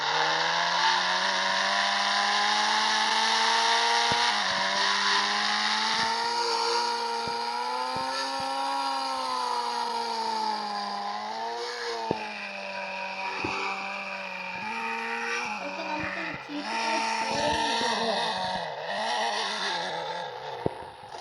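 Toyota Fortuner engine in the Indian Bikes Driving 3D video game drones with a steady synthetic tone, rising and falling in pitch as it revs, loud and continuous with a few small clicks and no talk.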